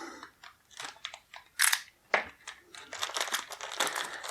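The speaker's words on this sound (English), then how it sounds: "So let's go ahead and slice that tape open" Tape being sliced on a small plastic bag holding a convention-exclusive toy figure, heard as a close series of crinkly plastic crackles and short cutting snips, with a sharper crackle burst partway through.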